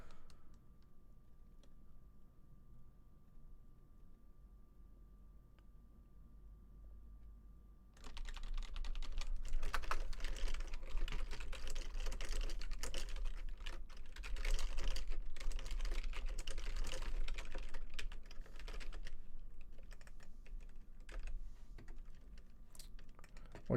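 Rapid, steady typing on a cheap $10 Dell computer keyboard, close and clear, with quiet room tone at first and then dense clattering keystrokes that continue to the end.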